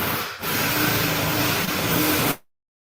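A loud, continuous whirring grind of a drill running for about two seconds, briefly dipping at the start, then cutting off abruptly.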